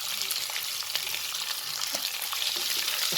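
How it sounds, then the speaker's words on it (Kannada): Sliced onions fry in a pan, giving a continuous soft sizzle with occasional light stirring scrapes, fairly quiet and steady for a few seconds. "ಸ್ವಲ್ಪ ಫ್ರೈ ಮಾಡ್ಕೊಳ್ಳೋಣ."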